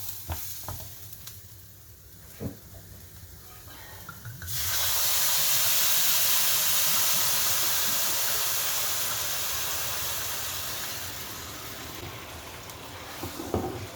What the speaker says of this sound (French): Une fois que le riz est bien enrobé, on va ajouter le vin blanc.